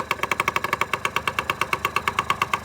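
A Yamaha Passol scooter's small engine runs close by with a fast, steady train of sharp, rhythmic pulses, loud and alone throughout.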